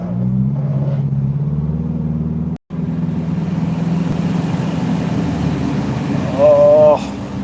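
A Ferrari 488 GTB rumbles along in gear, its engine a low, steady drone from inside the cabin, briefly interrupted, with a short rising rev near the end.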